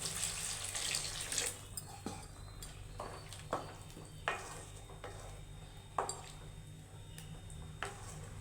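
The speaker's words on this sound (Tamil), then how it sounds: "தண்ணி ஊற்றிக்கலாம்" Water splashes and trickles into a pot of garlic kuzhambu, joined by occasional light clinks and knocks of a utensil, fairly quiet with no talking.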